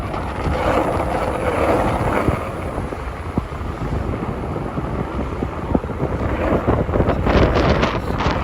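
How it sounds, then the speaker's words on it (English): Strong wind buffets a microphone on West 28th Street in Midtown Manhattan, a continuous low roar with irregular gusts and thumps that rise and fall, with faint street noise beneath and no talking. "Ooh, it is windy, everybody."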